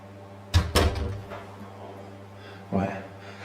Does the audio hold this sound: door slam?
yes